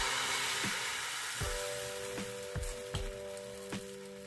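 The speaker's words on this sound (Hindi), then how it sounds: "अब हम इसमें डाल देते हैं बैटर को।" Rice flour batter poured into a hot pan over a medium flame without oil sizzles steadily, with a few soft clicks and taps of a spoon on top of the frying hiss.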